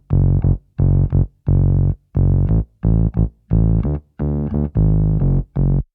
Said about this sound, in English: have a listen to what this bass sounds like without anything on it.